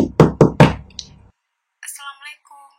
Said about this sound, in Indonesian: tiba-tiba ada yang mengetuk pintu rumah Nia,